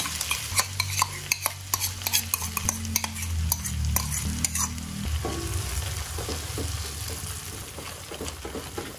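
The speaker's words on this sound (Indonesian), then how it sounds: "Setelah aromanya harum keluar, kita masukkan campuran saus tadi" Sauce mixture poured into a hot pan of fragrant frying aromatics for a fish dish, bursting into a steady loud sizzle under repeated sharp spatula knocks and scraping stirs.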